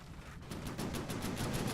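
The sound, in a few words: cannons shelling in From The Depths video game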